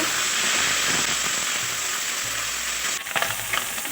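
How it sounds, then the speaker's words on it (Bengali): Turmeric-coated fish pieces are stirred as they fry in hot oil in a pan, a constant close sizzle broken near the end by a short clatter of a utensil scraping the pan. "একটু নাড়াচাড়া করে নেব।"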